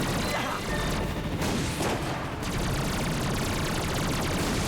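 Gunfire aimed at a dropship in the video game Metal Gear Solid 4, a continuous, loud, noisy barrage of rapid shots and crashing impacts filling the whole moment without pause.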